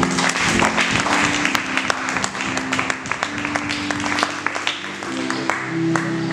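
Church congregation applauding and cheering at a worship service, dense steady clapping with scattered shouts from a crowd, fairly loud and continuous throughout.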